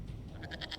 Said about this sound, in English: attacking the building with a goat